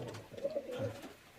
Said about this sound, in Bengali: এই দেখুন পায়রা দেখুন কেমন, আর এইটা তোমার নর পায়রা আছে